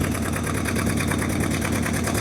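A C3 Corvette with a new carburetor and a large exhaust manifold leak idles close by, a loud, fast, rhythmic chuffing and ticking pulse held steady throughout with no talk.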